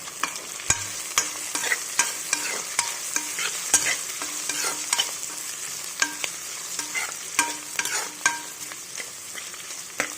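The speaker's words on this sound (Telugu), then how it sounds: "ఫస్ట్ ఆయిల్ వేసుకున్న తర్వాత ఆనియన్స్, పచ్చిమిర్చి, కరివేపాకు వేసుకొని పెట్టుకున్నాను. ఇది కొద్దిగా ఫ్రై అయిన తర్వాత ఆలు వేస్తున్నాను." Potatoes drop into hot oil with onions, green chilies and curry leaves, giving a steady sizzle punctuated by frequent sharp clicks of a spoon stirring against the pan, close up with no talking.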